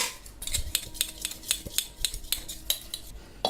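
Steel utensils and a metal plate being scrubbed with salt by hand in a home kitchen, giving a run of light, evenly spaced metallic clinks and scrapes at close range with no talk.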